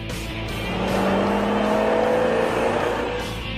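A Ford Mustang Mach 1 with a 428 Cobra Jet engine runs steadily and loud, a rising engine note sustained throughout, like a car accelerating past.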